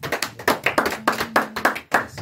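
A church congregation applauds with rhythmic, steady clapping that sounds close and fairly loud, in even bursts.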